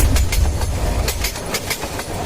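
A passenger train runs on rails, its wheels giving loud, rhythmic clickety-clack beats over a heavy low rumble, close by and continuous with no voices.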